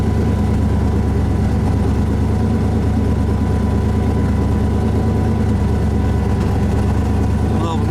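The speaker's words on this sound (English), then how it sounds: "We're idling, getting up to temperature." A Corvette engine idling while it warms up, a loud steady low rumble with an even throbbing pulse running unbroken throughout, close to the car.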